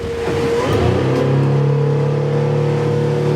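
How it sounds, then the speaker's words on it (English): A Galia 750 HT powerboat with a Honda 250 outboard accelerates hard. The engine's loud, close, rising roar fills the whole stretch. "Yeah, lots of bottom end grunt. It's a torquey motor, 250 Honda that she's fitted with."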